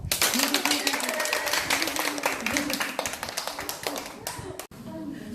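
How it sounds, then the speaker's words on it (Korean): A small group claps enthusiastically in a hair salon after a curly-hair perm treatment, brisk close hand claps with voices talking over them, ending in a sharp tap. "자, 박수!"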